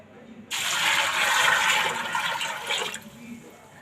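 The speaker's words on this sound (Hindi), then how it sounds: "इसके अंदर मैं डालूंगी पानी।" Water gushes steadily into a pressure cooker of soaked chickpeas for about two and a half seconds, a loud close splashing pour that starts and stops abruptly.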